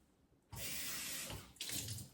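Tap water pours into a bowl in a kitchen while sweet and sour chicken is being cooked, a sudden close, steady rush that breaks off briefly and then starts again, with no talking.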